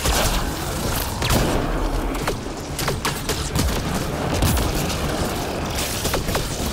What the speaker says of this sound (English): I can set off other explosions!